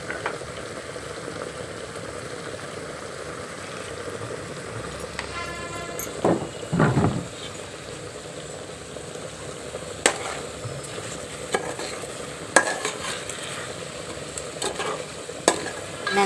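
Chicken curry simmering in a pan on the stove, with a steady bubbling sizzle throughout and intermittent scraping stir strokes from a spoon, close and fairly quiet, no talking.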